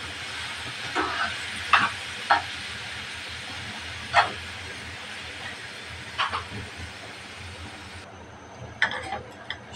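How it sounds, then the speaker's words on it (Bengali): Red amaranth greens frying with onions in a pan, a steady hiss broken by a few sharp scraping clicks as they are stirred, fairly close and moderately loud. "শাকটা নাড়াচাড়া করে পেঁয়াজের সাথে মিশিয়ে নেব।"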